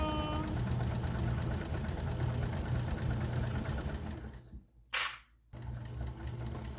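A sewing machine backstitches a messenger bag with a fast, close mechanical whir and knock, halts abruptly for a moment, then resumes stitching.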